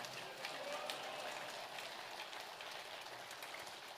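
A church congregation applauds to welcome a missionary from Indonesia at a Sunday service, a steady wash of clapping heard faintly from a distance.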